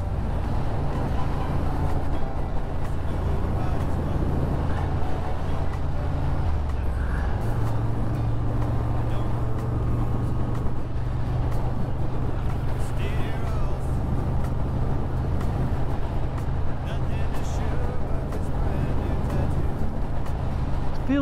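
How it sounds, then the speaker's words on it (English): Moto Guzzi Griso motorcycle ridden in bone-chilling cold, its steady engine drone and wind rumble running continuously up close, with a shift in engine pitch partway through. "I'm riding my bike"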